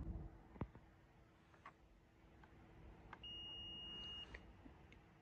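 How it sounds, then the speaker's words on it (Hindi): A digital multimeter on continuity mode gives a single steady beep lasting about a second, during a check of an LG inverter washing machine's start/pause button circuit, among faint clicks and handling noises. "आपको बीप सुनाई दे रही होगी"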